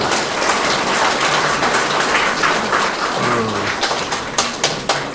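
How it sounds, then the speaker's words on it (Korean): An audience at a special lecture in Gimpo clapping steadily to welcome the elderly lecturer, a dense even patter of applause with a few sharper claps near the end. "뜨거운 박수로 환영해 주시기 바랍니다"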